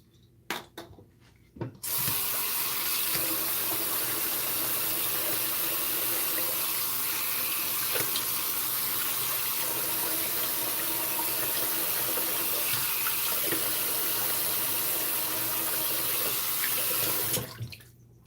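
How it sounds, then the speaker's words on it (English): Water runs steadily from a tap into a sink for rinsing during a shave, a continuous close rush that starts after a couple of seconds of quiet handling and stops abruptly near the end. "I'm gonna rinse so I can do cleanup."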